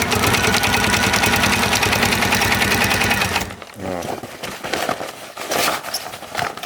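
A sewing machine stitches sail cloth for a shopping bag, a fast loud rhythmic whir for a few seconds that stops abruptly, followed by fabric handling and quiet talk.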